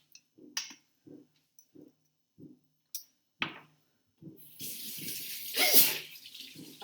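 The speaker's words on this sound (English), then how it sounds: "pepper makes me sneeze" A single sharp sneeze, triggered by pepper, bursts out after a few soft handling noises, followed by running water splashing steadily into a sink.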